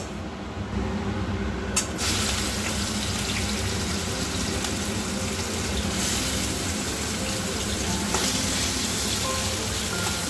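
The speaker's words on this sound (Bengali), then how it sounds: "তেলটা গরম হয়ে গেছে, এবার চিংড়ি মাছটা দিয়ে দেবো" Prawns fry in hot mustard oil with a loud, continuous hissing sizzle, a few sharp clicks, and no voices.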